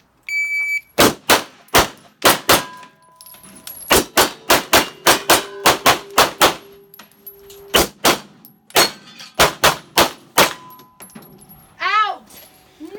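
Rapid volleys of sharp, loud gunshots from a 2011 Combat Master pistol during a shooting run, crisp cracks in quick bursts with brief pauses between strings, a short electronic tone near the end.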